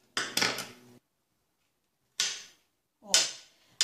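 A knife cuts onion for guacamole in three sharp, separate chops on a cutting board, close and crisp, with quiet pauses between them.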